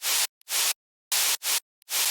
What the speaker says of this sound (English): And then a crucial white noise layer.